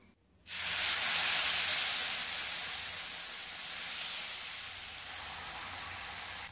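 Dosa batter hits a hot pan with an abrupt, loud sizzle that hisses steadily and slowly fades slightly, alone without talk.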